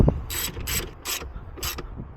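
Four quick bursts of ratchet clicking as the 12-volt battery terminal on a Chevy Volt is tightened, evenly spaced and close, with no talking.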